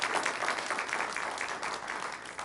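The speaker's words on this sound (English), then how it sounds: "if we could give just Aman one more round of applause" Audience applause at a living food health conference, a dense, steady clapping from a full room that holds at an even level throughout without pause.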